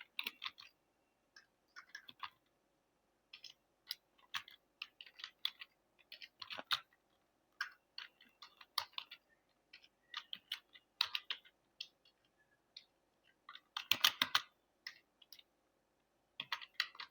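Fingers type student names into an Excel sheet on a computer keyboard, giving quiet, close bursts of rapid key clicks broken by short pauses, with a denser flurry near the end and no talking.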